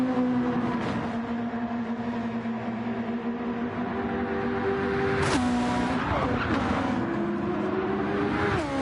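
A Super Formula race car on the High Speed Ring in a racing game, its engine whine holding steady, then a sharp scrape and pitch drop as it rides the wall in turn 2 before revving back up.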